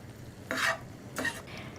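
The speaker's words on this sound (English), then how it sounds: "We're gonna cook this meat until it is brown and our onions and our peppers are tender." Ground beef browns with onions and peppers in a pan under a soft, quiet sizzle, marked by two short bursts of stirring scrapes.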